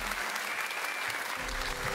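Dense, sustained applause from a large audience at the Weibo awards ceremony for actors, even and continuous throughout with a faint voice underneath.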